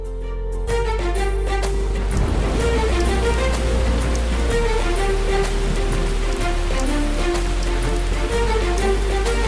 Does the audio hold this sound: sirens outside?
no